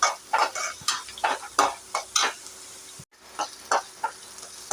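Green chilli, onion and curry leaves sauté in a pan, with repeated spatula scrapes and soft sizzling bursts in an uneven rhythm, close and moderately quiet, briefly cutting out midway.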